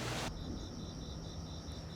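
Crickets chirp in a steady, pulsing trill on moving day in the mural village of Munhyeon. The chirping is clear and close, with faint background hiss and no talking.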